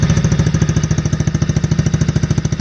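A cheap 110cc Chinese ATV runs after a slow start, its small engine chugging in a fast, even, pulsing rhythm, loud and close, with no voices over it.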